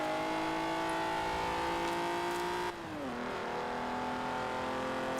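A retro Alfa Romeo V6 engine in Forza Horizon 4 droning at high, steady revs, then dropping in pitch as it shifts, holding a loud continuous roar throughout.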